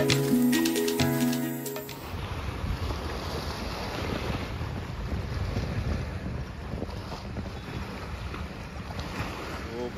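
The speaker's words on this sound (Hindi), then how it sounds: "जो पानी की आवाज़ आती है ना धीरे धीरे, ये बताता हूँ ये, ओह और ठंडी ठंडी हवा" At a lakeside viewpoint, a steady cool wind buffets the microphone over a gentle wash of lake water, a continuous broadband rush after a brief burst of music at the start.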